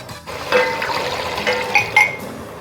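Cabernet Sauvignon red wine pours into a cooking pot for coq au vin, a short liquid splash and gurgle lasting a couple of seconds, close and fairly loud, with faint clinks and no talking.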